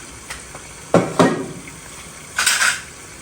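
A utensil scrapes and knocks against a cooking pot as rice is stirred, three or four short clattering strokes with brief pauses between them, close and fairly clear.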